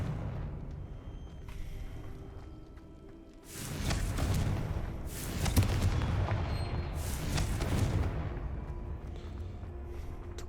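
Fiery Confringo spell blasts in the wizarding game Hogwarts Legacy, a series of loud, heavy booming explosions with rumbling tails arriving one after another over a low background ambience.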